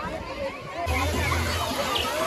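Water sloshes and splashes in an outdoor swimming pool at a farm picnic spot in Gurugram where children are bathing, a steady watery wash under someone speaking, with a rush of louder splashing partway through.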